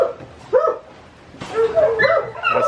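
A Blackmouth Cur named Mudbud gives several short, close barks and yips broken by whimpers, with a brief quiet gap between the two bursts.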